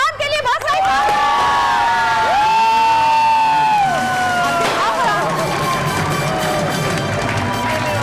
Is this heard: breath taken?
no